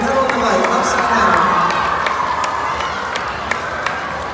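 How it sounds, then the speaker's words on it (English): An outdoor crowd claps rhythmically and cheers during a bicycle stunt show, with steady overlapping claps and a sustained murmur of voices. "Clap your hands. Make some noise for this one."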